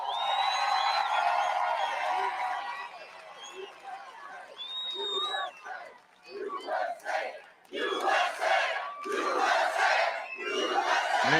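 A large political rally crowd for Trump in Florida roars and cheers loudly at first, then the noise breaks into rising, surging bursts of shouting and whooping that swell and fade in waves.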